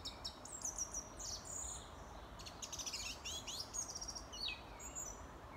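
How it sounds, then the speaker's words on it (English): Several birds sing and chirp at an allotment in bright, overlapping tweets and short trills, steady over a low outdoor hush with no talking. "I love the sound of the birds."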